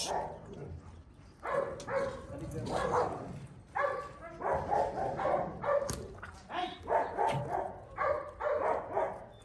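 Several dogs bark and yap in repeated bursts close by, apparently menacing a calf in a rural setting, with voices talking underneath throughout.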